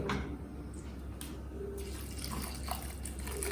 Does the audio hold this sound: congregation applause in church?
no